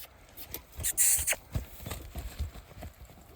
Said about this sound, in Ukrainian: Молода кобила, має гарну довжину.